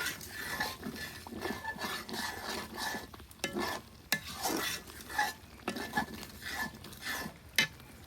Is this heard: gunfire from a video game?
no